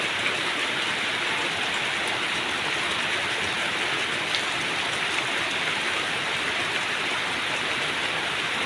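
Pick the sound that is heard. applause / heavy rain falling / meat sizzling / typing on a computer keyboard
heavy rain falling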